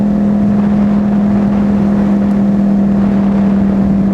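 A motorcycle engine runs steadily close by under light throttle, its strong low drone holding an even pitch throughout without voices.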